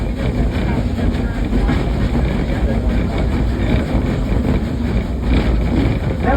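A train rolls steadily along the track with a loud, continuous rumble and a faint rhythmic clatter from the wheels, and no voices are heard.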